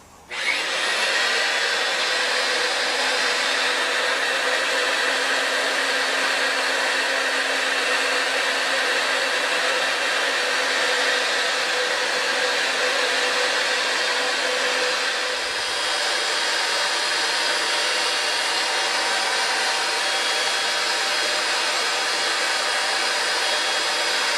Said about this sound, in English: So I'm going to turn this on now. My machine is plugged in